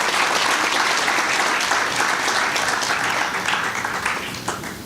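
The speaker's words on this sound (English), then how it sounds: "We can give them another round of applause." Sustained, loud audience applause fills the room at a live-streamed African Plant Breeders Association event after a children's cultural dance performance, holding steady throughout before tapering slightly at the end.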